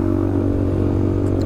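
A motorcycle fitted with a racing exhaust idles and rumbles close by, a loud steady low throb with a rapid pulsing beat and no clear change in pitch.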